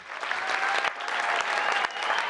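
A town council meeting audience gives a group of elementary school students a round of applause, producing a short burst of steady, moderately distant clapping.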